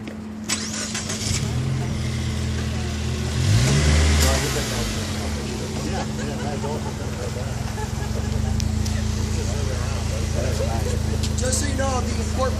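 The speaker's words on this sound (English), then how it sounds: "But I'll start the car up for you guys." A 2015 Subaru WRX engine starts up and revs with a rising, swelling roar, then settles into a steady idle while people talk nearby.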